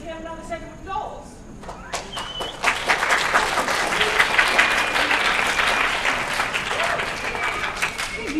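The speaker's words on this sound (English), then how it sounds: "Let's hear another set of applause." A theater audience at a Shakespeare festival bursts into sustained applause, building from scattered claps into a dense, loud wash of clapping that carries on to the end, with speech heard at the start.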